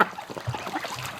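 Female breeding ducks in a spring pen let out a brief, close burst of honking quacks, a few overlapping calls packed into a second.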